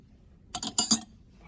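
Metal spoons, including tablespoons, soup spoons and dinner spoons, clink as they are set into a kitchen drawer: about four quick, close, bright taps in under a second.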